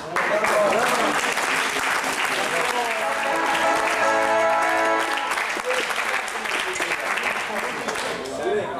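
Loud, sustained applause from a crowd cheering the winning team at a golf tournament prize ceremony, continuous clapping throughout with some voices underneath.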